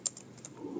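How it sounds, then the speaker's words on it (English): A few light clicks from a computer keyboard being typed on, faint and sparse in a quiet room. "I'm going to try to type something for you"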